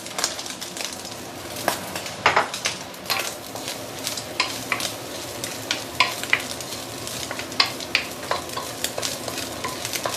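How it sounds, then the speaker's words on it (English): Pork lard sizzles steadily in a wok with dried squid over lowered heat, a dense close crackle broken by frequent spatula scrapes and taps throughout. "And I'm going to put in the pork lard."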